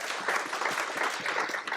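Audience clapping at a yoga talk, a dense, steady wash of many hands applauding together at moderate distance, sustained for the whole stretch without voices on top.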